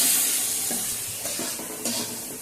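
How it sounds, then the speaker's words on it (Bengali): Stirring a chicken curry masala with turmeric and salt in a pan, with soft scraping strokes roughly every half second over a steady close sizzle. "এরপরে ওটাকে আর একটু নাড়িয়ে নেবে"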